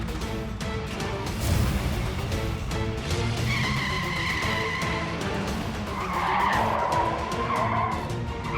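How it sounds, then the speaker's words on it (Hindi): A car reverses with its tires skidding and squealing on the road in a TV drama scene, a loud, steady screech running the whole time and rising toward the end, with no talk. "और ये गाड़ी पीछे क्यों लेके जा रही है?"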